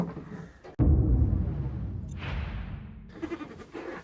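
A goat lets out a loud, drawn-out bleat up close after a sharp thump, followed by a second wavering cry and some rustling.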